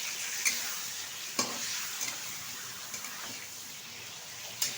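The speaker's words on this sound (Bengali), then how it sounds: "এবার একটু হালকাভাবে নেড়ে চেড়ে ভেজে নেব।" Large chicken pieces fry in a pan, a soft steady sizzle broken by several sharp scrapes and knocks of a spatula as they are stirred.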